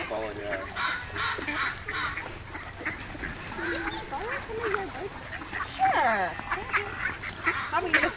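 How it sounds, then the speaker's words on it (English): A flock of ducks follows people through Beacon Hill Park, quacking repeatedly at close range amid park ambience, with people talking over them. "The army of ducks following us through Beacon Hill Park."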